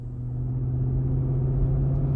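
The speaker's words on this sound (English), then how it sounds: "we're gonna go ahead and take this Armada SL out on the road for a quick test drive" Steady low rumble from a 2023 Nissan Armada SL 4WD cruising on the road, a constant engine and tire drone heard from inside the cabin with no talking.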